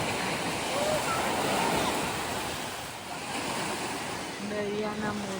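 Lake waves washing onto the Waskesiu Lake shore in fine weather, a steady broadband surf wash with gusty wind noise on the microphone; near the end a faint tonal hum joins in, and no one speaks.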